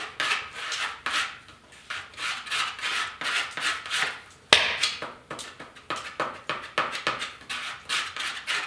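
Stirring plastic repair compound with a stick or screwdriver, mixing it like epoxy for a 1972 Ford pickup grille: steady close scraping and rubbing strokes in an uneven rhythm, with one sharper knock midway and no talking.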